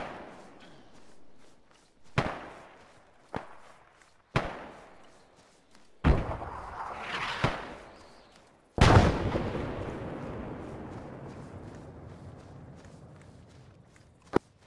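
Repeated grenade launcher fire in the video game Arma 3 Antistasi: a series of sharp, heavy blasts spaced a second or two apart, each with a short rumbling tail, and a final, louder boom that decays slowly over several seconds.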